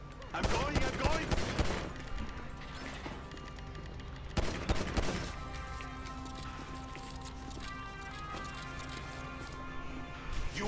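Gunfire from GTA V Online, with a burst of rapid shots early on and another around the middle, over a busy game soundtrack and ambient noise.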